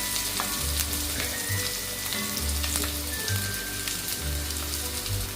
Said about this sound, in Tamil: இப்போ பார்த்தீங்கன்னா வெங்காயம் உள்ளி எல்லாம் நல்லா வதங்கிட்டுது